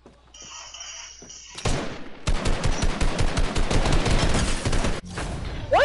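Rapid automatic gunfire from a video game shootout, sustained bursts of loud, dense shots lasting several seconds with a brief pause before more firing, no talking over it.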